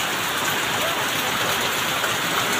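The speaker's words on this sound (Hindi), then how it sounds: "ये देखो बारिश का मौसम पानी चालू है आज तो" Heavy monsoon rain pours steadily in Nagpur, India, in a dense, unbroken hiss, loud and close, with no voices.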